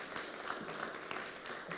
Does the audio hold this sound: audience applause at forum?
yes